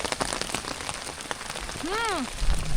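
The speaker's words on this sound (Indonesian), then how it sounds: "Semoga di pertengahan jalan hujannya nggak makin besar" Steady rain pattering on surfaces during a mountain hike on Mount Argopuro, a dense close hiss of drops, with a brief rising-falling voice or call partway through and faint murmur of people nearby.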